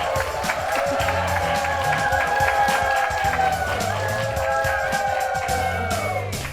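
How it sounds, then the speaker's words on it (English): A studio audience cheers and applauds, a lively burst of clapping and whoops that fills the room under a bright musical sting, steady and close throughout. "See, they're cheering."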